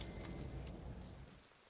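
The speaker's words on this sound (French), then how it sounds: "Il pleut dans le désert." Steady rain hissing over a desert landscape in Dragon's Dogma 2, a soft, continuous wash with no distinct drops or voices across the short stretch.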